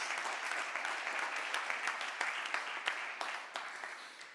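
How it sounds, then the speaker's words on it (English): A conference crowd at the Cleantech for Europe Summit 2024 claps steadily for a few seconds, dense applause with scattered louder claps standing out. "giving yourselves a round of applause"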